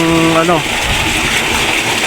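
Water from a solar-powered irrigation pump gushes in a loud, steady, close rush. A brief voice sounds at the start, then the flow runs on alone.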